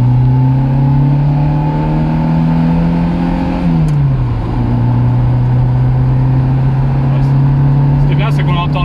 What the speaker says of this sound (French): on entend le bruit du moteur un petit peu